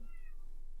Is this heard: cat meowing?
yes